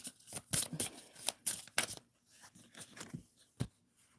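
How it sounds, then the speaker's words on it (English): Tarot cards shuffled by hand, a run of crisp riffling and slapping bursts with several cards spilling out, close and fairly quiet with no talk. "Too many cards fell out."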